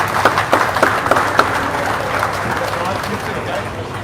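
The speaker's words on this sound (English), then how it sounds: "Big round of applause for my juniors." A crowd claps for junior anglers at a bass fishing tournament weigh-in on Lake Fork, with scattered sharp claps at first settling into steady applause under background chatter.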